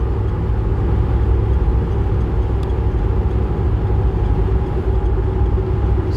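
Steady low road drone and tire rumble inside a 2016 Ford F-350 Super Duty DRW 4WD Lariat with a 6.7L diesel and 171K miles, cruising at about 60 mph; a continuous, even hum with no talk.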